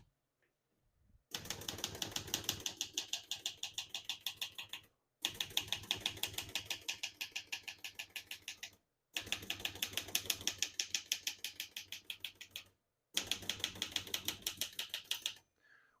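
Steady, rapid mechanical typing on a 1970s Olivetti Lettera 33 portable typewriter in four long bursts separated by brief pauses, close and crisp, with no talking.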